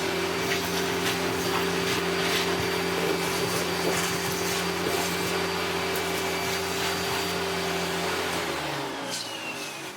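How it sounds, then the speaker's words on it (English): A Hitachi Powerhouse CV-460D upright vacuum cleaner runs with its hose attached, giving a loud, steady motor whine with a constant tonal hum. It carries on alone without talk and begins winding down near the end. "put the hose on and see what sort of airflow it might have."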